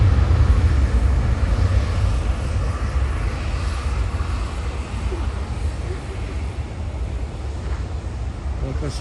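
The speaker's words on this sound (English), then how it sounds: "ANA 787 Dreamliner." An ANA Boeing 787-9 Dreamliner jet airliner at an airport gives a steady, loud, broadband roar with heavy low rumble that continues throughout, fairly close, with no clear speech.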